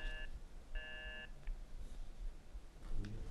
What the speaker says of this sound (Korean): 지금 전화가 잠시 끊어진 상황입니다